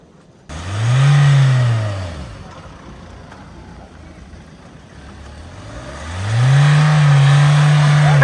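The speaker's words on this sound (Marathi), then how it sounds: "बघ कशी अडकली गाडी." An SUV stuck while off-roading revs hard twice, rising and holding at a loud whine, with a quieter idling stretch between the two bursts.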